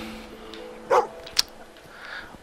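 A dog in the video game Fable 2 gives a short, sharp bark, followed moments later by a brief high yip, both standing out over quiet background game sounds.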